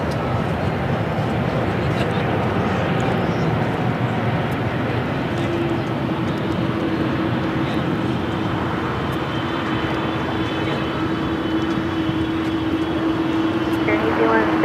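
An airliner takes off from runway 25 right at LAX: a steady, broad jet roar holds throughout, with a faint tone rising partway through, under radio talk.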